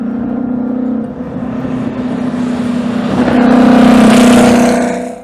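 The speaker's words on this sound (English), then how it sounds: "A 1955 Mercedes-Benz 300 SLR Uhlenhaut Coupe." Engine of a 1955 Mercedes-Benz 300 SLR Uhlenhaut Coupe drones with a steady hum, dips briefly, then swells into a louder rev before cutting off abruptly at the end.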